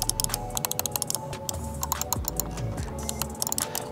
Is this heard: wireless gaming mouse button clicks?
yes